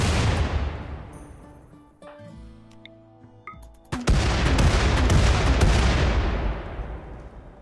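A naval cannon fires in the video game RimWorld, heavy booming blasts with a long rumbling roar that fades, then a sudden loud crack that opens into another sustained thundering rumble.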